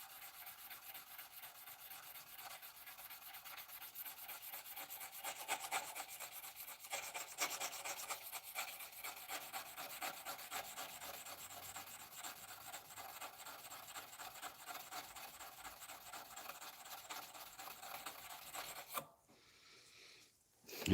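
Wet-or-dry sandpaper rubs along a wooden edge in steady back-and-forth strokes, a soft continuous rasping that runs quietly for most of the clip before stopping abruptly near the end.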